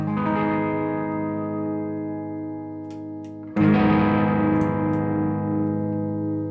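Electric guitar chords through a Caline CP-15 Tantrum boost pedal ring out with a mildly overdriven, slightly boosted tone; one chord sustains and fades, then a second is struck louder and held.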